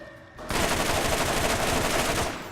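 A fast-firing weapon in Borderlands unloads in one continuous rapid burst, a dense rattle of shots lasting about two seconds, loud and close with no talking.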